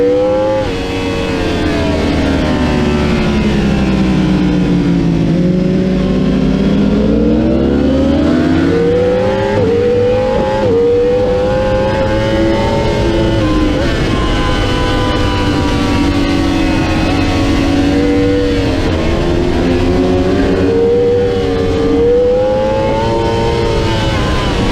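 Racing motorcycles circle the track during a promotional class session at a race weekend, their engines a loud, continuous drone whose pitch swells and falls as riders accelerate and back off, with no voices.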